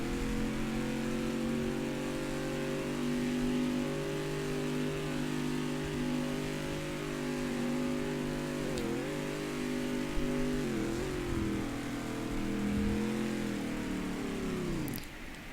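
A car engine held at high revs with failing connecting rod bearings drones steadily and loudly, wavers and stumbles near the end, then winds down as it gives out.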